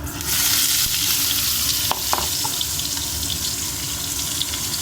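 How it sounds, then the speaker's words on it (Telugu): Paneer cubes fry in a pan with a dense, steady close-up sizzle, broken by a few scrapes and clinks of stirring, and no voices. "పచ్చి వాసన పోయే వరకు ఫ్రై చేసుకుందాము పన్నీరు"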